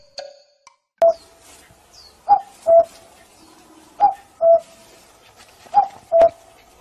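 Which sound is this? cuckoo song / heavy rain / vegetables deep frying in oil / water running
cuckoo song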